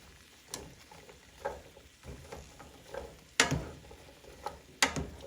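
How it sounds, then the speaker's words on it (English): Green beans being tossed with tongs in olive oil and garlic, giving soft stirring clatter and light sizzling with several sharper clicks of the tongs, close and moderately quiet. "I have a pair of tongs and I just mix it all together"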